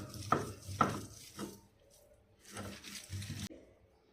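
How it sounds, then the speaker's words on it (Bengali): Yardlong beans being ground by hand on a shil-pata grinding stone, several rough scraping strokes close by and fairly quiet, with short pauses between pushes. "এখন বরবটিগুলো বেটে নিচ্ছি।"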